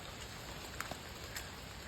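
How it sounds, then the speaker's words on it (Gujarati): Rain begins falling outdoors during a countryside mushroom hunt, a soft, steady hiss with a couple of faint drips landing nearby. "વરસાદ ચાલુ થઈ ગયો."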